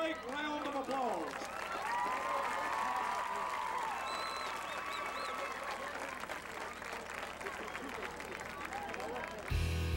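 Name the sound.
stadium crowd applauding the homecoming queen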